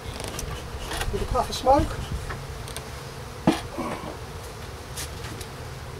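Bees buzz softly around an opened hive during a March spring inspection, a low continuous drone under a man's close, calm talk, with a brief sharp knock partway through.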